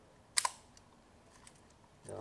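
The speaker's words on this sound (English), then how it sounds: "unique for this camera, it has a metal focal plane shutter, whereas Leica was cloth" A Zeiss Ikon camera's metal, vertically travelling focal plane shutter fires once, giving a single crisp, close mechanical click that fades quickly into near silence, with a faint softer sound at the end.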